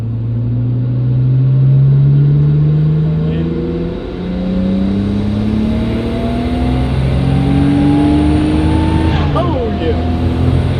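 Engine of a Nissan Skyline R33 revving hard under load in third gear, pitch climbing steadily toward a 7,200 RPM peak, then abruptly dropping as the throttle lifts; loud and continuous, heard from inside the car.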